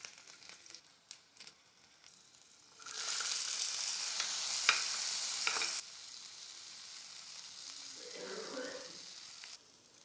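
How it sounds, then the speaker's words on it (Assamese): Garlic dropped into hot oil for a leafy greens and chickpea dish sizzles loudly in a pan, a sharp burst that holds steady for several seconds, then eases into a softer frying hiss with some stirring. "তেলখিনি গৰম হ'ল, নহৰু দি দিলোঁ।"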